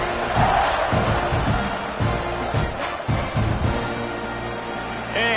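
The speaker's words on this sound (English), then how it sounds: "this crowd is buzzing after that last score" Football stadium crowd buzzing after a score, a dense roar of many voices with shouts and rising cheers, steady and loud throughout.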